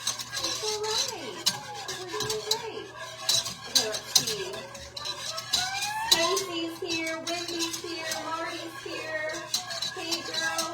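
Sugar-free peanut butter fudge stirred in a pot, with repeated scraping and clinking of the utensil against the cookware, continuing under voices talking nearby.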